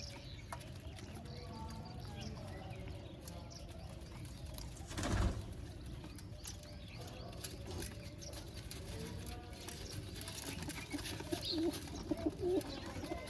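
Racing pigeons coo softly in a loft, low repeated burbling calls under steady background noise, with a brief louder rustle or flutter midway and a few sharper calls toward the end.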